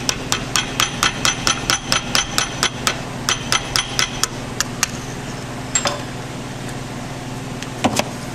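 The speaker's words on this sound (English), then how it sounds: "I sharpen it up and I'm tapping it with a hammer." A hammer gives rapid, evenly spaced light taps on a sharpened putty knife used as a chisel during a Ford 641 tractor hydraulic pump rebuild, then pauses before a few scattered metallic knocks, close and crisp.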